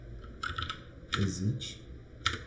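Rapid keystrokes on a computer keyboard enter a router exit command, clicking in short bursts of several keys with pauses between, close and fairly soft, with faint voice murmur underneath.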